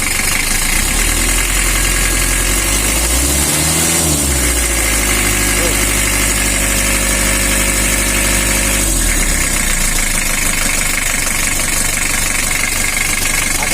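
A rough-running Mitsubishi L300 engine idles with a knocking, vibrating drone, revs up once briefly and settles back to idle, loud and close, with someone talking over it.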